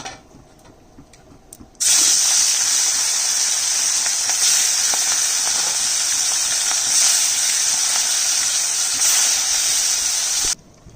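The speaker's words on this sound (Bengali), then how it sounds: "তেল গরম হয়ে গেছে মাছ ভাজবো" Fish coated in salt and turmeric drops into hot oil and sets off a loud, steady sizzle that bursts in abruptly after a quiet start, hisses for about nine seconds, then cuts off sharply.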